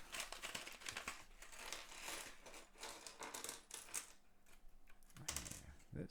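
The plastic parts bag of a LEGO City set is torn open by hand: close, soft crinkling and rustling comes in uneven bursts, with a brief sharper rip near the end.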